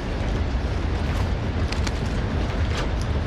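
A rocket explosion in Call of Duty Warzone on Verdansk, heard as a continuous heavy rumbling roar with a few sharper crackles and debris hits over about three seconds, fairly loud and unbroken, with no talking.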